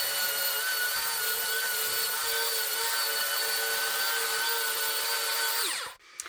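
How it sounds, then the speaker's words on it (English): Pallet board edges are sanded with 80 grit sandpaper by a power sander that whines steadily and loudly up close, then winds down and stops near the end. "I'm going to go ahead and sand it down so you can get a peek at how it looks."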